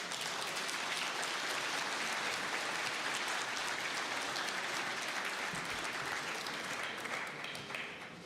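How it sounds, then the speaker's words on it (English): Conference audience at the Munich Security Conference applauds a speaker's arrival, a broad, even wash of many hands clapping in a large hall, sustained and steady for several seconds, then easing slightly at the end. "So with your applause, please welcome Secretary General Jens Stoltenberg."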